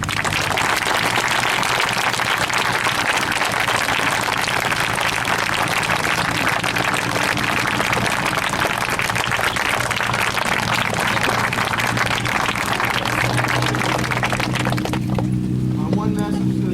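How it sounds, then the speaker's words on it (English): Dense sustained applause from a crowd at a military graduation ceremony for new DoD technicians, loud and steady throughout before fading near the end. "Let's give a round of applause"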